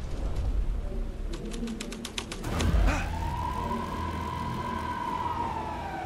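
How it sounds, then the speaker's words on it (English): Police car siren in the video game Alan Wake 2, a rising wail that sweeps up and then holds a long steady tone over a busy game background of clicks and ambience. "Drops an actual police car in the scene"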